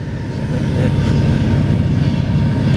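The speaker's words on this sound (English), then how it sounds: "Fucking train." A passing train rumbling at a rural shooting spot, a dense low roar with faint clattering wheels, steady and loud throughout with no voices.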